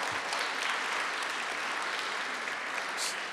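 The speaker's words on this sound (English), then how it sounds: "All of y'all are clapping." Audience at an award ceremony applauding, a steady dense wash of clapping held at an even level throughout.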